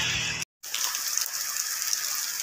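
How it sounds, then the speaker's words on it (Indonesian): Steady rain falling beside a railway line while waiting for a train, a continuous even hiss broken by one brief dropout, with no talk. "Ini hujan ya."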